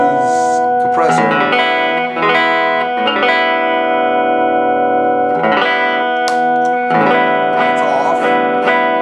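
Ibanez Arcore AFJ91 electric guitar played through a compressor pedal, loud sustained chords and single notes ringing out with a few re-struck phrases, smooth and even in level throughout.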